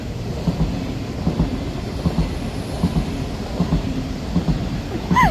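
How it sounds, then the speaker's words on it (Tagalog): A long train passes nearby in Korea with a steady, rhythmic clickety-clack of wheels over rail joints, loud and continuous, and a rising squeal at the end. "May train na dumaan."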